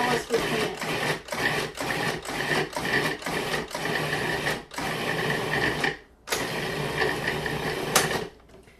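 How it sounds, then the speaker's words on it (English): An electric kitchen grinder or blender breaks up ingredients for plant-based chocolate ice cream, its loud, rough whirring running in a steady stream of short bursts with a brief pause near the end. "So we'll just grind this up as small as we can."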